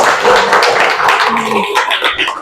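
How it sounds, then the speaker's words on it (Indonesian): Classmates clap for the Antarctica group after its presentation in an Indonesian classroom, a close, brisk burst of hand claps filling the short stretch and tapering slightly at the end. "kasih tepuk tangan untuk kelompok Antartika"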